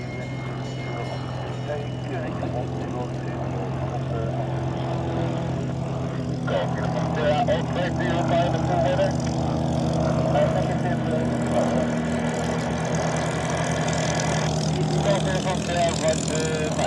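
A Spitfire's propeller engine drones steadily at an airport, a continuous loud hum with a deep tone that swells slightly midway. Voices talk over it throughout.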